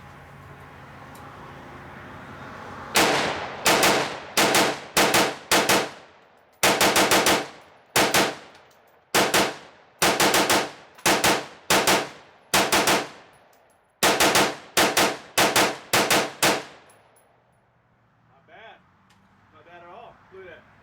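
An AR-15 rifle fires rapidly through a full magazine outdoors, a long series of loud, sharp shots in quick clusters for about fourteen seconds, then it stops and faint sounds follow.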